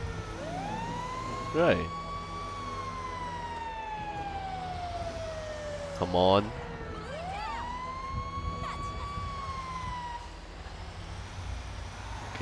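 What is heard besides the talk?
police siren in a video game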